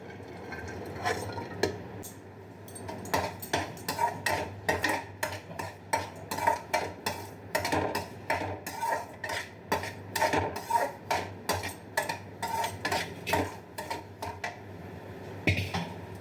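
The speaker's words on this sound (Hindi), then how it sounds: "साथ ही साथ सूजी को भी चलाते रहेंगे।" Semolina (sooji) roasting in a pan for halwa, stirred with a metal spoon in steady rhythmic scrapes and clinks that run close and continuous, with a low steady hum beneath and no talking.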